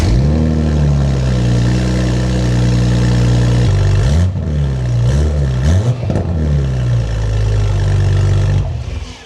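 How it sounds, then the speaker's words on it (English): A BMW X5 engine revs loudly through a downpipe-only exhaust, rising and falling in a few sharp pulls over a steady rumbling idle, close and raw. "let's get an exhaust clip of just the downpipe with nothing else"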